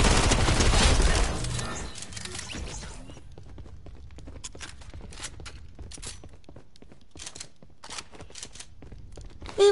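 Assault rifle fire in the Fortnite video game, starting with a loud dense burst that quickly cuts off, then a string of fainter, scattered shots and clatter from further off.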